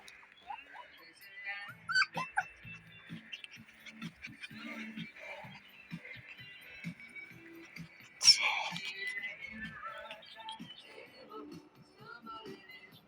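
Shiba Inu puppies at an FCI kennel give scattered short yips, squeaks and whimpers, with one louder bark-like burst in the middle; the small sounds come at irregular moments and are moderately near.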